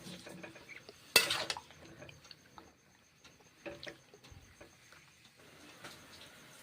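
Mushrooms go into a wok with ginger paste and green chillies, and the cookware gives soft clinks and scrapes, one sharp clatter near the start, then quiet intermittent stirring.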